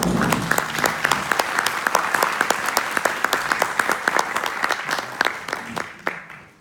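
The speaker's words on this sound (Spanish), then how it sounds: "para el cual pido un aplauso." An audience at a book presentation gives a dense, lively round of applause with many crisp individual claps, sustained for several seconds before it tapers off and fades near the end.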